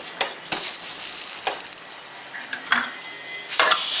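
Rice and milk for akkaravadisal boiling in a large pressure cooker pot while a spoon stirs it, with soft bubbling, a sizzling hiss and intermittent scraping and clinking of metal against the pot.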